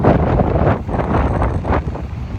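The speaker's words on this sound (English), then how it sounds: "Definitely windier than it was in the morning." Gusty wind buffets the microphone on an open beach, a loud, continuous rumbling roar that surges and eases in waves over a couple of seconds, with no voices.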